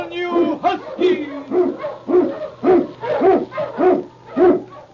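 Husky sled dogs bark in a steady, evenly spaced series of about eight loud, close barks over a low constant hum.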